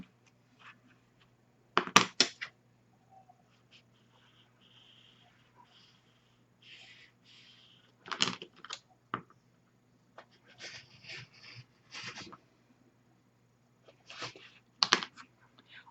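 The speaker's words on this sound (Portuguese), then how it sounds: "com o cortador circular, você vai cortar esse excessozinho aqui de tecido" A rotary cutter slices off excess fabric on a tabletop during cartonnage work, lining dividers and side supports; a few short, sharp cutting bursts stand apart from quiet gaps, close and moderately loud, with no talking.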